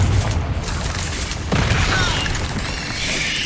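Confringo blasting spell explosions in Hogwarts Legacy, loud booming bursts with a sharp crack partway through, followed by a lingering rumble of spell effects.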